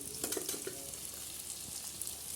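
Masala spices, with green chillies and salt, roasting in a pan on a chulha stove for a cauliflower sabzi, a faint steady sizzle with a few soft scrapes of stirring, no voices.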